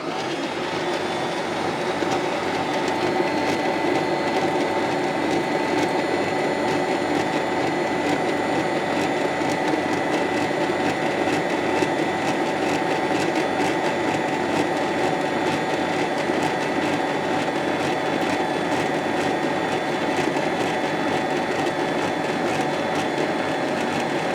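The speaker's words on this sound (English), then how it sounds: "And I'm gonna add that in as my mixer runs." Electric mixer whirring steadily through banana bread batter, a constant close motor drone that runs unbroken from start to finish with no talk.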